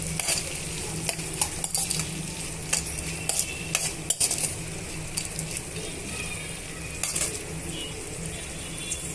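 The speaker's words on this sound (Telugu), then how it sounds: "ఉల్లిపాయ ముక్కలు, పచ్చిమిరపకాయ ముక్కలు బాగా వేగిపోవాలండి" Onion and green chili pieces frying in a pan for cashew upma, a steady close sizzle with frequent scraping and clinking stirs of a metal spoon, continuous and fairly loud with no talking.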